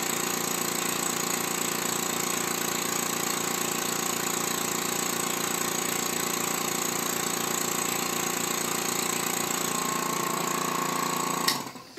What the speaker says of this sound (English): Let's turn on our pump.